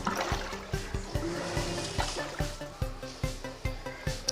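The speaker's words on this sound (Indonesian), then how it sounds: "sekarang mesin cuci sudah mulai membuang airnya" Water gushing and trickling as a washing machine drains, with a steady wet flow broken by regular mechanical knocks or clicks at roughly even intervals, fairly quiet and close.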